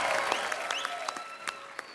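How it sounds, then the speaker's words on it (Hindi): Applause from a television comedy studio audience: a steady wash of clapping that stays at an even level throughout, with a few sharper individual claps standing out. "आप सबकी जोरदार तालियों के बीच वेरी टैलेंटेड हिमेश रेशमिया"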